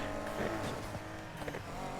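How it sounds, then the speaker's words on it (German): Nissan Skyline engine in the racing game Need for Speed Heat, a steady droning growl with sustained harmonic tones and slight shifts in pitch over two seconds, fairly loud and continuous. "So ein Skyline klingt geil."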